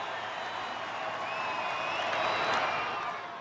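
A large baseball crowd of 44,807 at a Washington Nationals at Los Angeles Dodgers game fills the air with a steady, distant roar and murmur that swells slightly midway and eases at the end.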